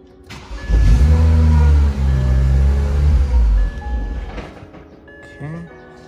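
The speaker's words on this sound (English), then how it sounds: "I gotta start the car so I can get the fuel pressure out" A BMW 335i engine cranks and catches, revving up loudly close by, then settling into a steady idle that fades slightly, with a voice briefly audible near the end.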